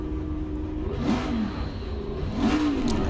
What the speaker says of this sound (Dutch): de motor heeft een wat dieper geluid. Er lijken twee ondertonen in te zitten, een hoge toon en een lage toon